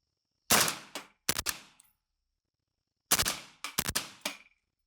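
Suppressed rifle shots from a 5.45x39 rifle with a 40-round magazine, firing Tula ammunition through a Ventum suppressor at night: two quick bursts of two to three sharp cracks each, separated by silence, loud and close.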